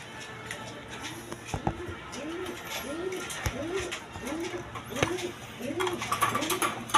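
Caged pigeons coo in a steady series of soft, repeated rolling calls, fairly close, with occasional sharp knocks and rustling from the cages and a low background hum.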